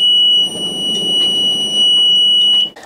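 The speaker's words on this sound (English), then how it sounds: "That can be the engine overheat alarm." A steady high-pitched boat engine overheat alarm tone sounds continuously over a low rumbling engine drone, cutting off near the end.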